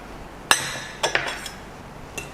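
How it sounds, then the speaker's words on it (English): Spoon clinking against a glass while stirring brewed French press coffee with sugar syrup: a few sharp, bright taps spaced apart, close and fairly quiet, with no talking. "Mix well so that the sugar will be combined with the coffee."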